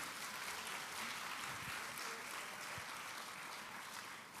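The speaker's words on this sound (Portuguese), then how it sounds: "Aplauda o nome de Jesus." A church congregation in Brasília applauds, a faint, steady patter of many hands clapping at a distance.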